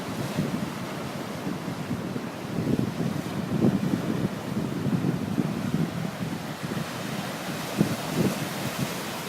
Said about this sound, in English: Right by the sea.